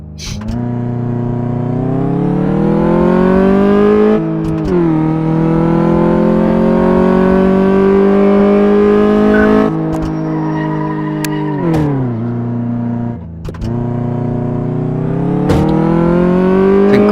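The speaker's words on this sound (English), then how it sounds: "Perform a test drive" Simulated car engine in Car Mechanic Simulator 2014 revving loudly and steadily on a test drive, pitch climbing through long pulls with brief drops between gear changes, alone without talk.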